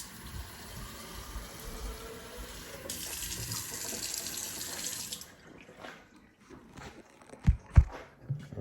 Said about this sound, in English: I'm going to pop some water in here